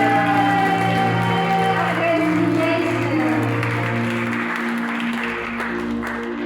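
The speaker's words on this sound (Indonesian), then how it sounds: "Mari kita sambut dengan tepuk tangan Bapak Ibu." A crowd applauds steadily for several seconds at a wedding, with music and a few voices underneath the clapping.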